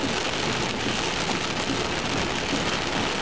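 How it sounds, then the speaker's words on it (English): Hail pours down during a severe thunderstorm, a dense, continuous hiss and patter of ice striking surfaces, steady and loud with no pauses. "We got hail coming down everywhere."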